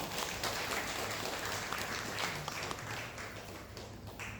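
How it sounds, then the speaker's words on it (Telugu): An audience of Sai devotees at a prize-giving gathering claps, a faint, steady wash of applause heard from a distance throughout. "సాయి గట్టిగా చప్పట్లు కొట్టండి"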